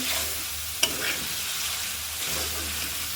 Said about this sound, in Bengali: আলু দিয়ে দিচ্ছি আলুটাও বেশ কিছুক্ষণ কষাবো